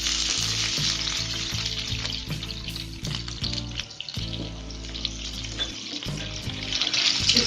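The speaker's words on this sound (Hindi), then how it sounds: "इसको लाइट ब्राउन होने तक हम पकाएंगे।" Onion sizzles in hot oil with cumin, a loud, dense, continuous frying hiss heard up close, broken by a few stirring scrapes and no voices.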